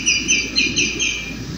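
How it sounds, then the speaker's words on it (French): A common greenshank calls in a quick series of clear, ringing notes, about five repeated whistles, close and fairly loud with faint background hum. "Celui-ci est un chevalier aboyeur, écoutez."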